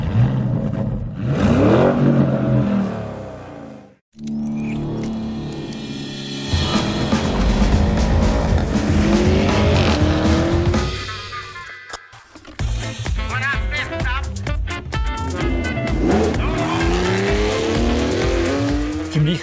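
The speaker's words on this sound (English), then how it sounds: "this central layout of the exhaust system allows us to generate a more emotional sound with an even higher frequency" A 2020 Porsche Cayenne GTS V8 with a centrally laid-out exhaust revving hard in several loud bursts, rising and falling pitch sweeps, a sudden cut near four seconds and another drop later.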